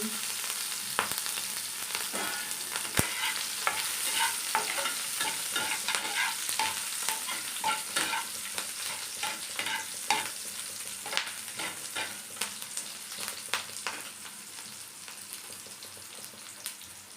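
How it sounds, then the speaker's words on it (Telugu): Green chillies sizzle steadily in hot oil, close and continuous, with frequent stirring clicks and scrapes spread through the whole stretch and no voices. "ఇప్పుడు పచ్చిమిర్చి నూనెలో డీప్ గోలే వరకు చూస్తూ ఉండాలి"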